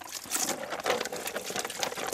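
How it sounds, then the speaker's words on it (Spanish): About three liters of water pour into a five-kilo bag of lime with a continuous close splashing gurgle, steady throughout. "echándole una proporción de agua a la bolsa de 5 kilos, de unos 3 litros de agua"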